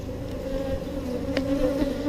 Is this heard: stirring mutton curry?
no